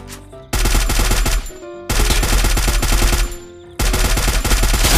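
Automatic weapon fire in a shooter video game, three long loud bursts of rapid shots separated by short gaps, close and dominant with no talking over it.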